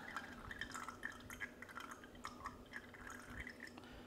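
Water pours slowly and very low from a gooseneck kettle, a Brewista Artisan or Cuppa CWK-100, onto a coffee bed, heard as a faint, steady trickle with small irregular drips, close and quiet with no talk.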